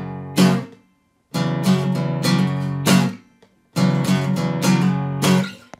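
Guitar playing a blues groove: three short bursts of strummed and plucked chords separated by brief silences, played solo and close with no talking.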